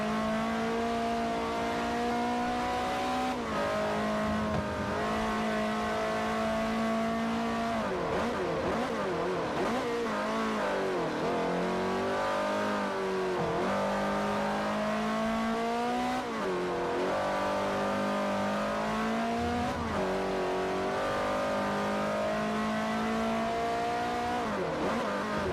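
A race car engine in Forza Motorsport 4 on Xbox 360 drones loudly and steadily, pitch climbing through repeated upshifts and dropping under braking, with a faint tire squeal in places.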